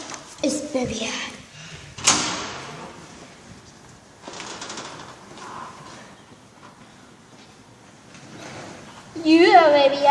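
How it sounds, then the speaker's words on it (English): A heavy door is pushed open with effort, giving scraping, knocking and creaking bursts scattered over several seconds, with people talking and exclaiming around it. "Let's push open the door."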